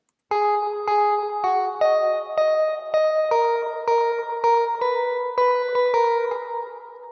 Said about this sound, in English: we'll hear it back just to be reminded of it, what it was with just the other reverb and delay